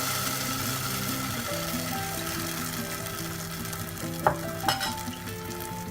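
Kalathappam batter cooking on high flame in a pressure cooker, a steady soft sizzle and bubbling throughout with a couple of faint clinks, no talking.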